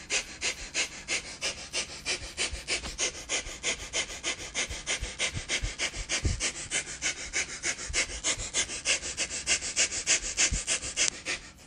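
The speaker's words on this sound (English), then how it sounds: "keep pumping the exhales." Forceful pumping exhales of a pranayama breathing exercise, sharp rhythmic breaths repeating rapidly and evenly throughout, close and steady, with no talking.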